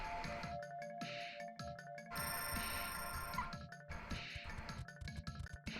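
Telephone ringing in a room, a steady electronic tone that repeats in pulses over a busy background of game music and clattering hits.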